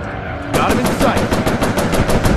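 Aircraft machine guns fire in the Warplanes VR combat game, starting after a brief quiet and then hammering out a loud, rapid, evenly spaced stream of shots that runs to the end.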